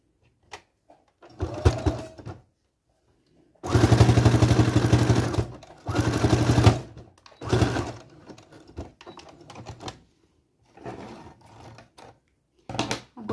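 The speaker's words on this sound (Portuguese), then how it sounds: "E a gente puxa e costura" A sewing machine runs zigzag stitches to close an opening in pajama pants, with short bursts and one longer rattling run of rapid needle strokes separated by pauses, loud and close.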